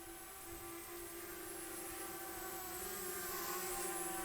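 A DJI Spark drone hovers nearby in tripod mode, its propellers giving a steady, fairly quiet whining hum with a sustained tone that holds level the whole time, no voices.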